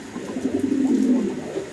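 Greebas pigeon chicks coo in a soft, close, rolling burble that rises and fades over a couple of seconds.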